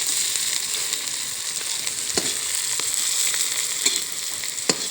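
Ghee sizzles steadily in a pan while leftover soaked rice is fried for panta bhat biryani, a dense crackling hiss broken by a few sharp pops and spatters, close and continuous with no talk.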